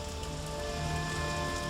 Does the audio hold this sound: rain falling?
yes